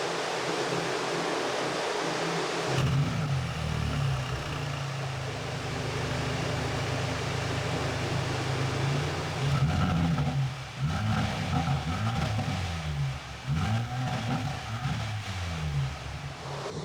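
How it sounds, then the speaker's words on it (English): A 2023 Mercedes-Benz SL43 AMG, US version, idles with a steady deep exhaust rumble, then is revved in several rising and falling bursts close by, with wind-like noise throughout. "One other thing before we get inside is to check it out, is the sound of the exhaust"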